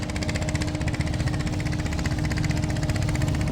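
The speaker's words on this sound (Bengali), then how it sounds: "একটি ট্রলারের শব্দ টের পাওয়া যাচ্ছে" A trawler boat engine runs steadily on the Kirtankhola river near Barisal, a continuous droning hum with a rhythmic mechanical throb, fairly close and unbroken throughout.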